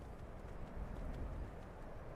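A horse's hooves clip-clopping in the video game Skyrim, soft rhythmic footfalls under a faint outdoor ambience, fairly quiet and close, with no talking.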